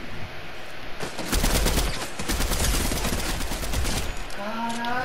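Rapid automatic gunfire from the Fortnite video game rattles in dense, loud bursts for several seconds, with brief gaps between volleys.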